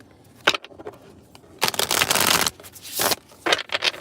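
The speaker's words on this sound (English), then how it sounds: "I'm going to shuffle these cards up" A deck of cards being shuffled at close range, with several bursts of riffling and a longer dense flutter in the middle. No one speaks.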